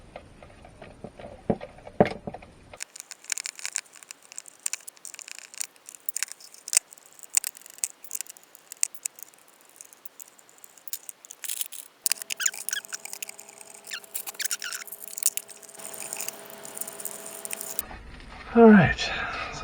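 Buttons on an Arcade1Up control panel are unplugged from their wiring, making a long series of small, close plastic clicks and ticks, with a steady electronic tone toward the end.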